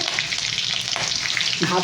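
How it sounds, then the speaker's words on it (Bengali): Green chilies and panch phoron frying in hot oil, a dense continuous sizzle with light spattering, close and loud, no talking. "কাঁচা লঙ্কার 5 ফোড়নটা একটু ভেজে নেবো"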